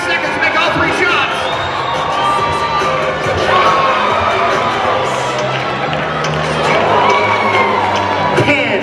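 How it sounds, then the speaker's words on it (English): A loud, sustained roar of basketball fans cheering and shouting in a college arena, with whoops and children's voices mixed into the continuous crowd noise. "Come on, fans, cheer him on."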